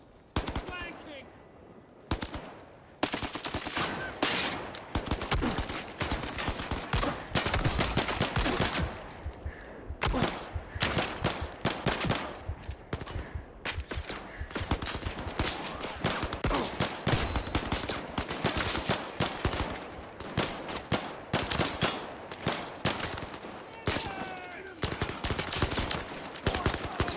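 Gunfire in the VR shooter Zero Caliber VR comes as dense bursts of automatic weapon fire and single shots, near and loud, repeating almost without pause, with brief quieter gaps and faint voices between volleys.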